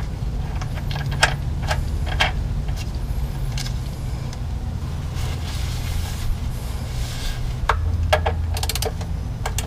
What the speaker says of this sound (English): you can go on ahead and reinstall your drain plug